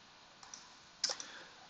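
Typing on a computer keyboard while writing code for a React project: a few faint, sparse key clicks over a quiet room hiss, with one slightly louder cluster of taps near the middle.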